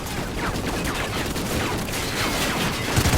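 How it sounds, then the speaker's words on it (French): Machine gun fire in the Call of Duty: Ghosts campaign forms a dense, continuous fusillade of rapid shots, loud and sustained across the whole moment with no pauses. "Mitrailleuse sur le balcon."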